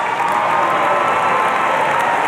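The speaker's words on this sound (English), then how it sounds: "Let's give a round of applause to the Master of Public Policy graduates" Steady applause for Master of Public Policy graduates at a university commencement ceremony, a dense, even wash of many clapping hands throughout, with no voices rising above it.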